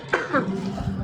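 A woman's single short cough comes out close and loud, followed by a brief chuckle and light voice sounds.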